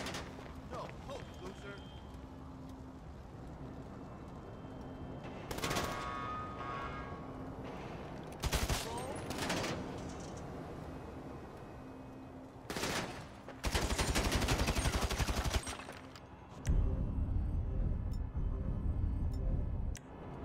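Gunfire in GTA 5 during a construction-site assassination mission: several bursts of automatic fire and loud single shots spread across the stretch, mixed with game noise and shouting voices.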